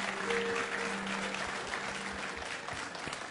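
An audience claps continuously to welcome a guest onstage, a dense, even burst of applause sustained from start to finish with no voices over it.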